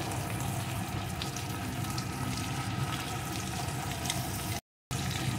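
Papaya sautés in a pan with cumin-ginger paste, chopped tomato and chilli powder for an egg papaya curry, giving a steady, even sizzle throughout with a brief dropout near the end.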